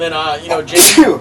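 A single loud sneeze bursts out close to the microphone, right after a person speaks.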